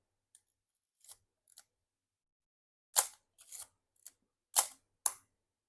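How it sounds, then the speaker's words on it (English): Leica M2 rangefinder film camera, its film advance lever wound and shutter button pressed: a few small soft clicks, then several crisp, close mechanical clacks and ratchet snaps in a quiet room. "when you wind the film advance lever and press the shutter button, it feels much smoother than the FM."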